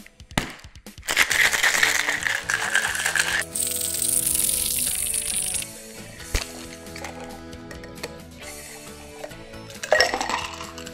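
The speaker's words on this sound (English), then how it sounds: "I have a shaker here, which already has ice in it. And I'm just gonna shake it up." A cocktail shaker already filled with ice is shaken hard while an apple cocktail is mixed, with ice rattling and clinking against the metal in a steady run of noise that eases partway through.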